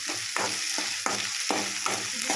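Green chillies sizzling in a pan with peas and onion, a steady hiss broken by regular scraping strokes of a spatula stirring the mix, close and fairly loud with no talk.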